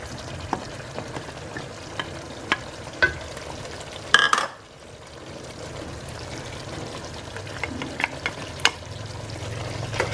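Mint and coriander leaves frying in a pot of butter chicken biryani, with a steady low sizzle, a few stirring clatters, and a brief louder scrape and splash midway.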